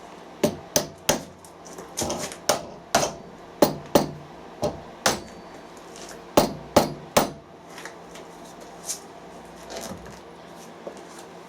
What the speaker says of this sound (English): There's something satisfying about using one of these old Thor hide hammers.